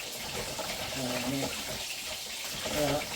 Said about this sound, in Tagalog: Hugasan natin siya ng maigi.